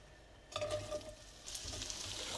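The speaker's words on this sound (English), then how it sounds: "Starting to get some sizzle. So in goes 1 thinly sliced red onion." Thinly sliced red onion hitting hot oil, a soft sizzle rising then settling into a steady frying hiss, close and quiet, with no talk.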